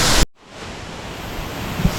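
Steady, roaring broadband rush of a Bali waterfall heard close up, a dense unbroken wash of falling water after a brief louder burst at the start, with no voices.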